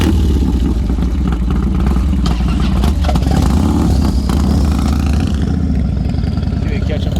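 A 1990 Harley-Davidson FXR rides through town in Rockville, its engine giving a steady, loud, low rumble that carries through the whole stretch with little change in pitch.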